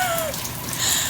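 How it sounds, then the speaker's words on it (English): Heavy rain pours down in a steady, dense hiss that fills the whole brief moment without pause. "Look at this rain, you guys."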